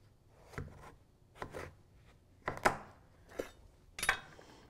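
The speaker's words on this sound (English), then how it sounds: "we're just gonna cut it right in half." A knife works through a delicata squash in a kitchen: a handful of short, crisp cuts and knocks against a board, spaced irregularly and fairly quiet, with no talking.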